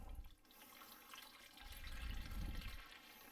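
Water sloshing and trickling in a dish where a cheap razor soaks in very hot soapy water, a faint, continuous watery swirl with a few louder surges, no voices.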